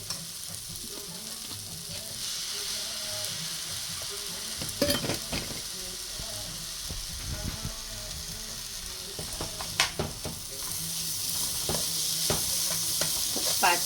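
Rice being stir-fried in a pan with black soy sauce: a steady sizzle runs throughout, with scraping stir strokes and clinks of the utensil on the pan at intervals, fairly close and with no talking.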